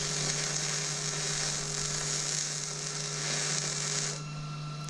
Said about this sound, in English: 211 MIG welder. We're going to tack this end.